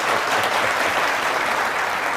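A crowd applauds at a talk show in a dense, continuous wash of clapping that holds steady and fairly loud for about two seconds, with no voices heard.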